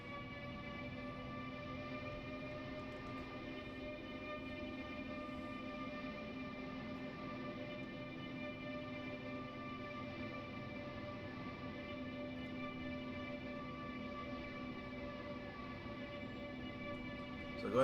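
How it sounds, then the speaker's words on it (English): A train passes slowly through an automatic train wash on the Munich to Augsburg line, heard from inside as a steady mechanical drone and hum with sustained tonal whine, even and unbroken, with no talking. "So going through the train wash now"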